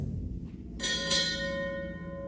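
A single ship's bell strike at a US Navy retirement ceremony rings out clearly, its bright metallic tone sustaining and slowly decaying over a low background rumble.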